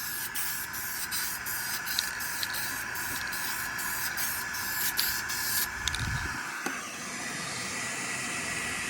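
Spray paint coats a custom SRT-4 car valve cover in a steady, close, hissing stream that lasts most of the clip, marked by a few short clicks of the nozzle. The spray cuts off near the end with a soft thump.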